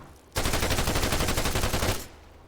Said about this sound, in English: the simplest way to defuse one of these IEDs is to just shoot the wire